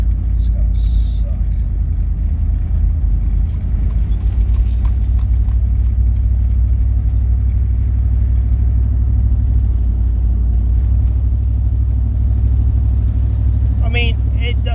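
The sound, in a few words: Chevrolet Suburban engine running with exhaust leak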